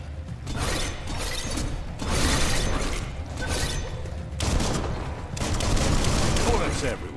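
Gunfire erupts in the video game Biomutant in several bursts, each a dense rattling volley of loud shots separated by short pauses.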